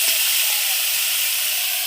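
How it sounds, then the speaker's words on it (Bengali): Bitter gourd and potatoes frying in a home kitchen in the morning, giving a steady, even sizzling hiss that carries on unbroken at close range. "এই দেখো করলা আলু ভাজা করছে।"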